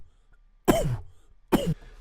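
Two loud, close coughs spaced about a second apart, each a short harsh burst with a throaty tail, used as a kick drum sound in an electronic track built from coughs.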